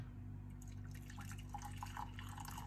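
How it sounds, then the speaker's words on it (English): Hot water pours into a cup in a close, quiet gurgling and splashing stream that rises in pitch as the cup fills, over a low steady hum. "I'm going to start by pouring some hot water in a cup."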